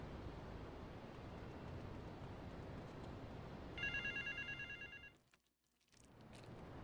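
A payphone at an airport terminal rings in Grand Theft Auto: Vice City, a short burst of electronic trilling rings over steady game background noise that briefly cuts out.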